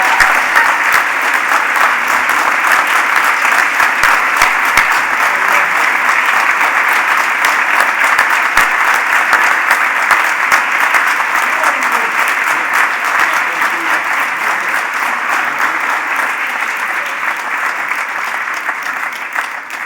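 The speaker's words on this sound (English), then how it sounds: "One more round of applause for our great inductees this year." Dense, sustained applause fills the hall for Country Music Hall of Fame inductees at an awards announcement ceremony, a loud, steady roar of many hands that holds for nearly twenty seconds and eases slightly toward the end.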